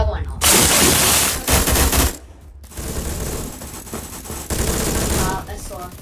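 Rapid automatic gunfire shooting through a wall in the Roblox video game, loud bursts of shots in the first two seconds, then continuing fire at lower level for the rest.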